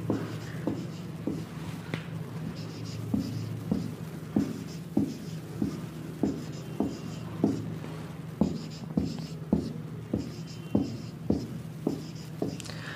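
Chalk or marker tapping and scratching across a board during a Sanskrit lesson, a regular run of short strokes and taps over a steady background hum, close and moderately loud.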